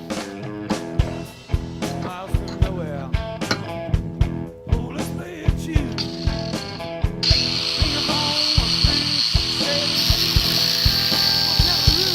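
A screw is backed out of a wooden pad holder with a ratcheting tool, producing a rapid series of sharp clicks that give way to a steady mechanical whir, close and loud.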